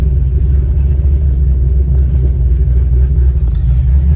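A drag car with a newly installed transmission cruising along a road: a steady, loud low engine rumble and drone heard from inside the car, with no talking.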